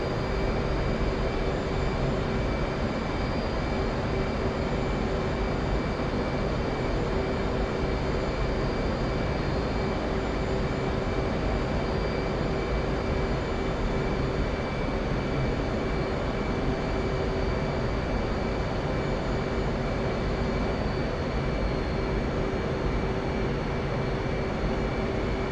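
Steady, loud jet engine drone of an F/A-18C on a straight-in landing approach in the DCS flight simulator, a constant broadband roar with a faint whine that holds unchanged throughout, with no voices.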